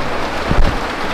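Dense, steady heavy rain pouring down after a typhoon, a continuous hiss with a low rumble swelling briefly near the middle.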